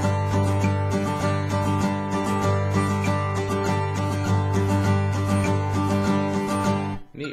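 Guitar strumming a pattern without a rest, with quick, even down-up strokes repeating steadily before stopping near the end, close and clear with no talking.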